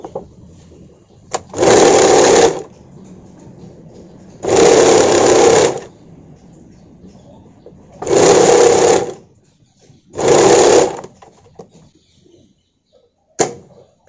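A sewing machine stitches a sleeveless blouse in four steady whirring runs of about a second each, separated by quiet pauses, close and loud, ending with a short click.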